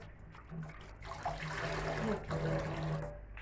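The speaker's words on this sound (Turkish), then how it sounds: "Sular akıyor sadece." Water runs steadily from a tap into a kitchen sink while dishes are washed, a continuous close splashing rush with a slight rise midway.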